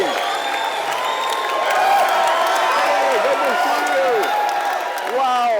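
Crowd cheering and clapping at a Conservative campaign rally, with dense sustained applause, whoops and excited shouts from many people throughout.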